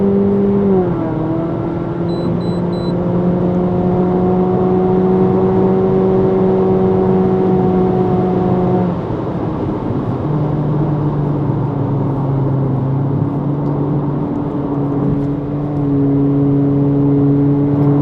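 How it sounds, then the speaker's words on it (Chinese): A tuned Honda Civic FL1 1.5EX accelerates in Sport Mode, its engine drone climbing in steady steps and dropping back as simulated gear shifts occur. The sound is heard from inside the cabin, continuous and fairly loud, with road noise underneath. "在 Sport Mode 的情况下，我踩完它会好像模拟换挡的"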